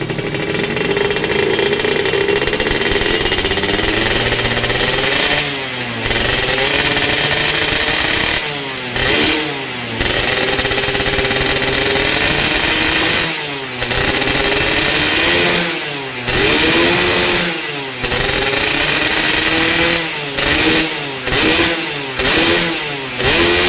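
A Yamaha F1Z-R two-stroke motorcycle fitted with an RX-King cylinder and exhaust revs hard and close, repeatedly rising to a loud buzzing wail and dropping back to idle over about twenty seconds, alone without talk.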